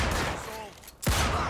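Gunfire in the video game Mafia 2: Definitive Edition, with a sharp, loud shot bursting in near the end after a stretch of steady game ambience.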